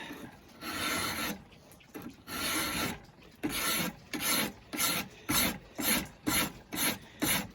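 A hand file rasps along the edge of a steel blade for a rifleman's knife, with long scraping strokes that become shorter and quicker and settle into a steady back-and-forth rhythm, close and without talk.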